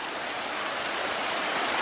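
Water flowing from the Talkhak mineral spring: a steady, close, unbroken rushing and splashing that holds even throughout, with no voices.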